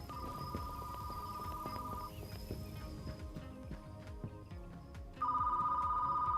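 An old-style telephone ringing in the video game Retro Rewind, a bright electronic trill that sounds for about two seconds, stops, then starts again louder near the end over a low background.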